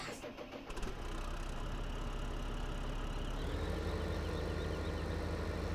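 A tractor engine idles in Farming Simulator 15, a steady, dense mechanical rumble that swells slightly after a brief quieter start and then holds at an even, loud level throughout.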